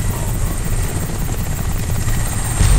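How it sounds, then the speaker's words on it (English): Helicopter in the video game Crysis Warhead, a steady loud rotor thrum with low chopping pulses holding throughout, close and continuous with no voices. "can you track that helicopter?"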